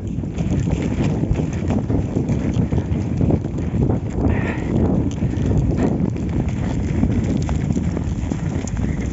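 Stallions walking outdoors on thin snow give a steady, moderately close clip-clop of hooves, partly masked by strong wind buffeting the microphone throughout.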